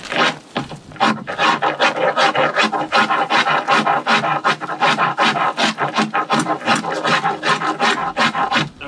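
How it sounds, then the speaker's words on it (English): A blunt bowyer's float rasp is drawn over wood in quick, rhythmic strokes, each a close, loud scraping rasp in a steady back-and-forth pattern with no talking. "So then I can switch to the bowyer's float, which is a rasp in this, a sort of rasp, I suppose."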